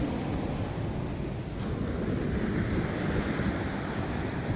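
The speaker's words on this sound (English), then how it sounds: "You can see the water splashes up here regularly." Ocean waves splash and wash against a rocky New Zealand shore, a continuous broadband roar with wind buffeting the microphone, steady and loud throughout, no talking.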